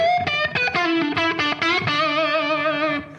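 A bright, distorted electric guitar plays a run of picked notes then a sustained chord, with a short, close room reverb effect pedal set at 65 milliseconds adding slight ambience.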